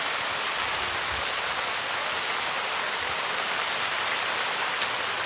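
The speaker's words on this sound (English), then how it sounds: "Yeah, the rain stops nothing for ASA." Heavy rain pours steadily during a lightning storm at an outdoor archery shootdown in Metropolis, Illinois, a dense, even wash of close, constant noise with no talk.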